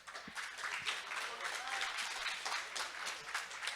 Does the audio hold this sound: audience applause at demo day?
yes